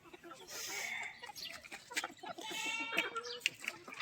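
Desi hens cluck and squawk close by around a drinker of deworming water, a busy overlapping chorus of short calls and one brief higher cry, with faint background voices.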